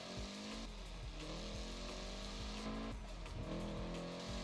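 A car in Forza Horizon 4 drives with its engine droning and revving steadily, shifting pitch through gear changes, loud and close with no other sounds over it.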